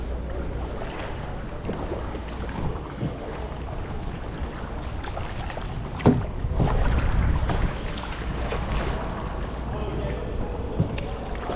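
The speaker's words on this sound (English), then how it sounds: "We're getting blown a little by the wind." Wind blowing across a glass-bottom kayak on the water off Saint Pete Beach, Florida: a steady broadband rush with soft water movement, and a louder gust swelling around the middle before settling back.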